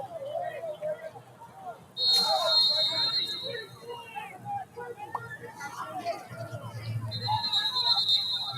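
Two shrill referee whistle blasts sound at an American football game, one early and one near the end, over stadium crowd murmur and a commentator talking.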